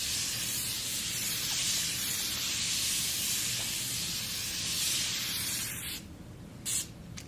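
Fine face mist sprayed from a large bottle, a soft continuous hissing spray lasting several seconds, then brief short spritzes near the end, close and quiet.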